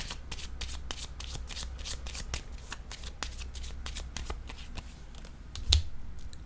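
Tarot cards are shuffled in quick riffling bursts close up, with crisp repeated card flicks and a soft thump as a card is laid down near the end, alone without talk.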